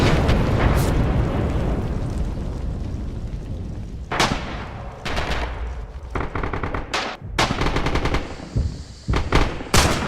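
Heavy gunfire and artillery roar in the World War II shooter Red Orchestra 2: a dense, rumbling barrage of blasts gives way to sharp, close rifle cracks and rapid machine-gun bursts, loud and without speech.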